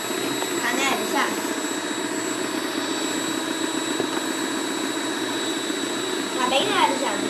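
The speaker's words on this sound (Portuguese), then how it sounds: "Vai virando lá a batedeira." An electric stand mixer whirs steadily as it whips batter for a boxed cake mix in a home kitchen, a continuous motor drone throughout, with people talking over it.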